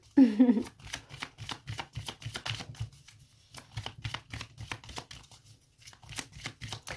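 A deck of tarot cards is shuffled for a card reading in a rapid series of crisp riffles and slaps, close and clear, with someone speaking softly between the bursts.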